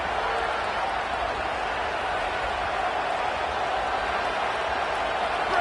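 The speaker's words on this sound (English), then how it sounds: "This crowd ready to make its presence known" Stadium crowd in an NCAA football video game, Tennessee against Georgia, a constant broad roar of cheering that holds steady throughout with no voices on top.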